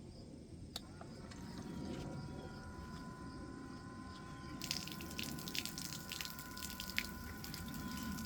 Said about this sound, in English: we're just going to spill it on the ground because it's only water